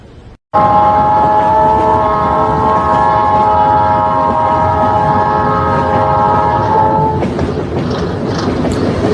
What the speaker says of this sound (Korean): 희망의 청춘열차는 기적소리와 함께 중원역을 힘차게 출발하면서